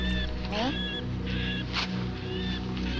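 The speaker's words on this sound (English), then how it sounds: "Bird noises." Bird calls in repeated honking, goose-like squawks sound in short bursts over a low steady hum, with people talking faintly underneath.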